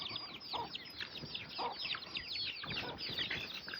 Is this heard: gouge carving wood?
no